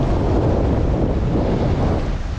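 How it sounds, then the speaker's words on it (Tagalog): Strong sea surf pounds the shore at Rawis, a steady loud roar of breaking waves mixed with heavy wind buffeting the microphone, continuous and close with no voices. "ang lakas ng dagat natin ngayon."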